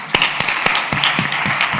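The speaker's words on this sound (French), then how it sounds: "On l'applaudit." An audience at a French forest festival gives a brief burst of applause, with distinct sharp claps ringing out in a loose, uneven rhythm.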